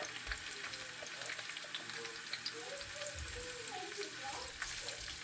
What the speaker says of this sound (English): I'm gonna go ahead and add the onion to fry, along with the pepper.